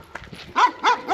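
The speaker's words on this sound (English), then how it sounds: "Dogs barking constantly." Two sharp, close dog barks in quick succession, following softer yips, in Romania.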